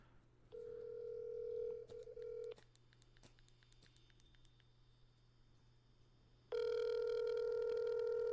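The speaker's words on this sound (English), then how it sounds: "let's see if we can get him on the phone" Telephone tones for an outgoing call: a steady dial tone, then a quick run of keypad beeps, a pause, and a loud sustained ringback tone at the end, clear and close with no talk.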